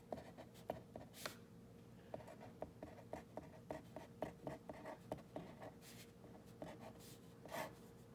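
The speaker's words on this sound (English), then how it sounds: "it's okay to just write the numbers." Pen or pencil scratching out numbers on paper, a steady run of short strokes and taps close by over a quiet hum, with no voices.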